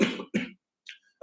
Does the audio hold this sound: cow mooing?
no